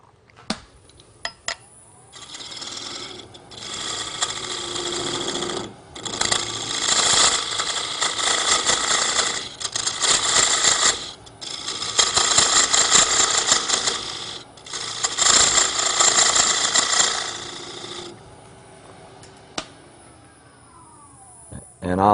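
A lathe turns a workpiece being shaped to fit snugly into a vessel, giving a steady, loud scraping whir in long bursts separated by brief pauses where the cut stops.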